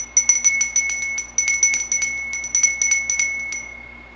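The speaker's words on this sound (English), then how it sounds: "now we're going to ring the bell 3 times to dismiss the sacred time" A small ritual bell rings in three bursts of rapid, bright chiming strokes during a Wiccan spring equinox ceremony, each burst ringing out clearly against a quiet background.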